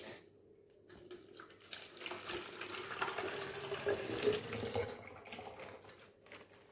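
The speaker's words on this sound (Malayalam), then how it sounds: "വെള്ളം ഒറ്റ കമത്ത് നോക്കാൻ" Water poured into a home fish tank holding goldfish, a soft continuous splashing trickle that swells in the middle and fades toward the end, fairly quiet and with no voices.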